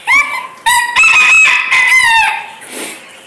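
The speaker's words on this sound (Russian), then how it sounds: "Ух, петушок какой." A rooster crows loudly and close by at a petting zoo, one long drawn-out cock-a-doodle-doo ending in a fading trill.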